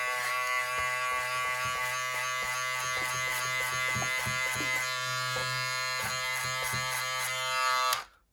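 An Edo Clip X cordless hair clipper fitted with a staggered-tooth cutter blade buzzes continuously at close range with a steady high whine, with faint handling taps throughout before it switches off abruptly at the end.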